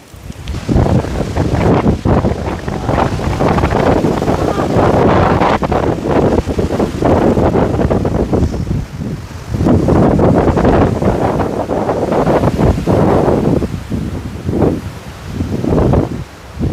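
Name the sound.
strong wind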